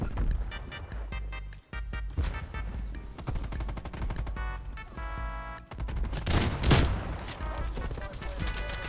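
Rapid dual-wielded Marshal pistol fire in Call of Duty Cold War, with dense strings of close, loud shots and mechanical clatter, peaking in a heavy burst near the end.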